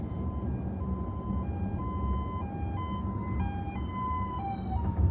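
A police car siren passing on the Las Vegas Strip, its wailing two-tone cycle rising and falling steadily over traffic rumble, moderately loud and continuous throughout.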